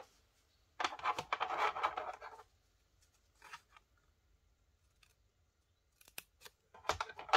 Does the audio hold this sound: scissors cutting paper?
yes